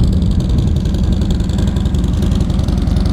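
A Harley-Davidson Sportster 1200 SuperLow with factory exhaust idles close by with a deep, lumpy, steady throb, fairly quiet and even throughout.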